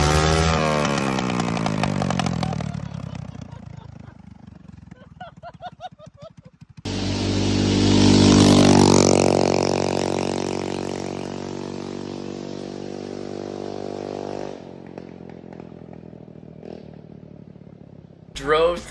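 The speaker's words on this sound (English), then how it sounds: "I hopped on my my straight pipe 70-mile-an-hour insane scooter." A straight-pipe scooter engine revs hard up close, snarling and buzzing in rising and falling bursts, then holds a loud, raspy drone before cutting off; a voice is heard briefly.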